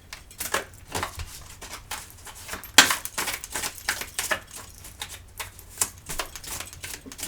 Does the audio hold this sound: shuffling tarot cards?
yes